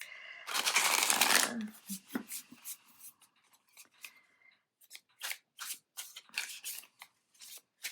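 Citadel tarot-style cards being shuffled for a reading: a loud riffling burst up close, followed by a string of short, crisp card snaps and slaps at an uneven rhythm.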